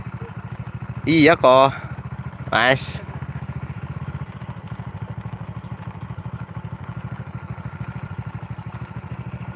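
A Honda Win motorcycle idles close by with a steady, rapid thumping engine pulse throughout, while a few short phrases of speech sound over it outdoors.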